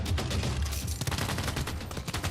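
Ranged-attack gunfire in Civilization VI, a dense rattling volley of rapid shots, loud and continuous throughout the short stretch.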